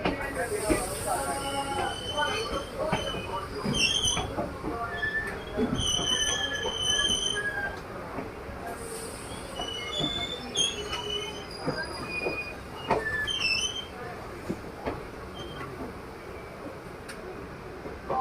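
An intercity train running from Coimbatore toward Mangalore Central, with a steady rolling rumble and repeated high, metallic wheel squeals rising and fading, heard from inside the carriage over a constant hiss.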